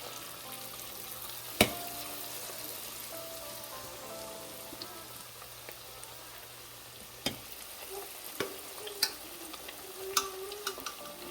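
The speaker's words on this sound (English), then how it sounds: "Let these fry up until they get golden brown." Chicken wings deep-frying in hot oil, a constant crackling sizzle with scattered sharper pops and faint clatters, steady and moderately close with no talking.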